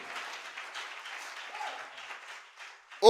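A church congregation applauding: steady, moderately loud clapping from a crowd for about three seconds, ending in a sudden loud burst.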